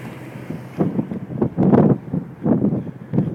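Strong desert wind buffets the microphone in loud, gusting surges of low rumbling roar that swell and ebb, with no voices.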